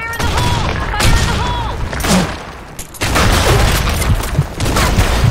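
Explosions and gunfire pound through a Blackshot match, with a grenade blast among repeated heavy booms and rapid shots, loud and close throughout.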